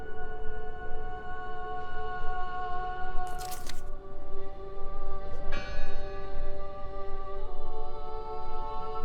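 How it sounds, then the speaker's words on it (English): A church bell in the video game Draugen, set in 1920s Norway, rings out as sustained metallic tones with long decaying overtones over a low ambient bed, with a couple of sharp noises partway through. "Listen! The bell! They're still in there!"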